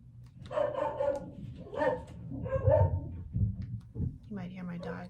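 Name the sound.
dogs barking in the background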